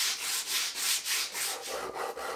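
Close, loud sanding of wood for a guitar build, with slower, broad sweeping strokes of sandpaper repeating in a steady rhythm, alone without speech.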